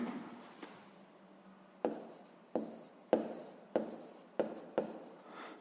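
A pen scratches out a sixth-grade math solution in a series of short, distinct strokes at an irregular rhythm, close and fairly quiet, with no talking.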